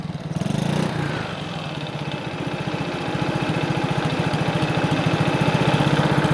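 A quad bike engine idles while warming up, a close, loud, rapid pulsing putter that holds steady and grows slightly fuller over the stretch. No voices.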